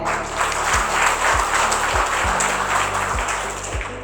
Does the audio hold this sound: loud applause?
yes